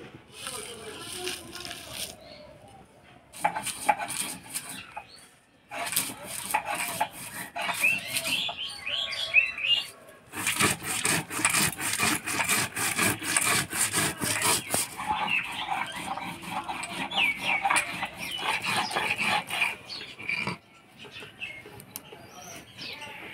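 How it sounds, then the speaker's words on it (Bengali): Fried spices ground by hand on a stone, long rhythmic rasping strokes, close and steady, broken by a few short pauses, with some voice heard faintly alongside. "এবার ভাজা মশলাটা বাইটে নিব"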